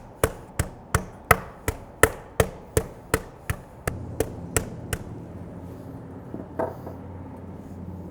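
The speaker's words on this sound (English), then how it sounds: "I'm just gonna kind of pound and push, especially the thicker areas out until they're all roughly the same thickness" A mallet pounds chicken breasts flat to an even thickness on a board, about a dozen sharp, evenly spaced thuds up close, then a few softer hits as a faint hum runs underneath.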